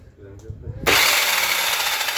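A Soviet-made electric chainsaw bites into wood with a sudden loud, steady buzzing roar after a short quiet lead-in of handling noise.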